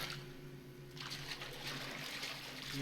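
Water slowly filling a space in the puzzle game Homebody, a soft steady trickle and gurgle with a faint low hum beneath, quiet and unbroken throughout.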